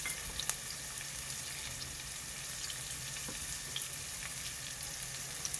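Chopped garlic frying in hot oil for dal tadka, a steady bright sizzle with occasional small pops, close and continuous with no talking.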